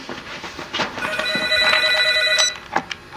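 A household telephone rings with one sustained electronic trill lasting about a second and a half, loud and close in an indoor room.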